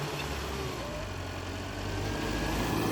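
A modified 3630 tractor engine runs at full throttle while working a field, a dense, steady low roar that holds even and loud throughout with no pauses.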